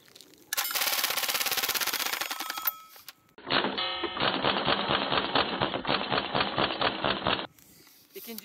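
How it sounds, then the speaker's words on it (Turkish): A KWC Uzi air pistol fires on full automatic in two long, loud, close rattling bursts, each a rapid stream of sharp pops, separated by a brief pause. "İlk olarak Uzi otomatik olarak atışını bir bakalım."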